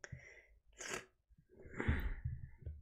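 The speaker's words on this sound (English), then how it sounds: "you guys got to hear my sniffles" A few quiet, close sniffs and a sharp nasal burst, like a sneeze or snort, with breathy pauses between them.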